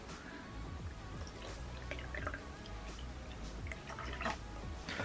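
Thai tea is poured over boba pearls in a cup, a faint, soft liquid trickle with light drips and splashes.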